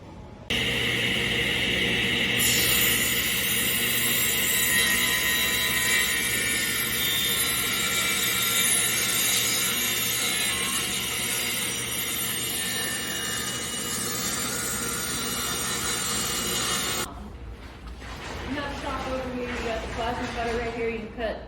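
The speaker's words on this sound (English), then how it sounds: "she's gonna help me cut some of these boards down into thirds to equal about 1x1s" Wooden boards are ripped into thirds to make 1x1 trim for a chicken tractor, giving a loud, steady whining cutting roar that runs about fifteen seconds and then stops, followed by someone talking.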